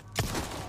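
A single sharp gunshot from the video game Resident Evil 4 Remake, followed by a brief ringing tail.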